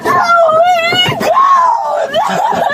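A woman screams and wails loudly and continuously at close range, her voice rising and falling in anguished, strained cries with brief breaks, distorted and harsh.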